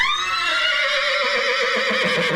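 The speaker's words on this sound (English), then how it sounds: "insert a horse whinny here." A horse whinnies alone in one long, loud, close neigh that starts high and slides gradually downward, breathy and quavering toward the end.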